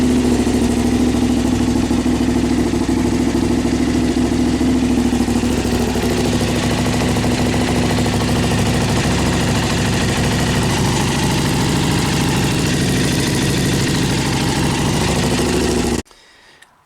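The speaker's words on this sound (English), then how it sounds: "Let's start the engine up," A KTM Superduke 990 LC8 motorcycle engine idles close by with a steady, throbbing rumble for most of the clip, then cuts off abruptly near the end.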